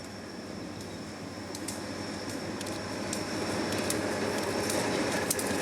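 An FEC train approaches a trackside defect detector in Fort Pierce, South Florida, its steady rumble building gradually louder, with faint high metallic squeals above it and no voices.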